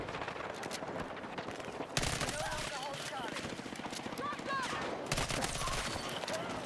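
SMG gunfire in a Battlefield video game battle: sustained bursts of rapid shots mixed with distant battlefield fire and crackling, loud throughout, with a voice talking over the action.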